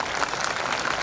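Audience applause at a Hindu religious talk in Guna, a steady dense wash of clapping filling the whole short stretch with no voices over it.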